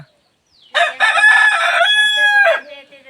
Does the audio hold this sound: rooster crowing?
yes